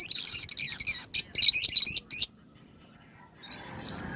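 Hand-fed baby birds give a rapid burst of shrill, close chirps in quick clusters for about two seconds, then fall silent, and faint rustling follows.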